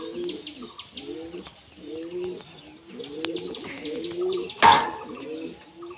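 Repeated low, throaty pigeon coos roll on steadily and close by, with a brief burst of wing flapping or a rustle near the end.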